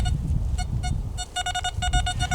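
A metal detector sweeps over buried objects in a field, giving short, evenly spaced electronic beeps over a low rumble of handling noise, first sparse and then faster in quick clusters.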